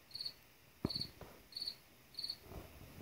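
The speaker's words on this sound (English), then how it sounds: "This is a cricket." A Google Home Mini smart speaker plays recorded cricket chirps in quiet, evenly spaced bursts, four high trills across three seconds, with a few faint knocks in between and no voices.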